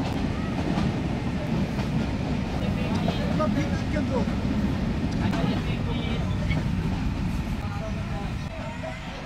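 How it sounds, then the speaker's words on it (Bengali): The Rupsha passenger train runs onto the Hardinge Bridge over the Padma River near Paksey, Ishwardi, Pabna, with a loud, steady rumble of wheels and carriages and a rhythmic clatter heard from on board. "হার্ডিঞ্জ ব্রিজে প্রবেশ করবে ট্রেনটি এখন উত্তরবঙ্গ থেকে দক্ষিণবঙ্গে"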